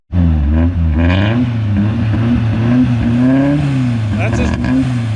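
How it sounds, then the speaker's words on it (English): A BMW barn-find car engine revs hard close up, its loud note climbing and falling through several throttle blips with a strong, throaty drone. "That's a strong fucking engine."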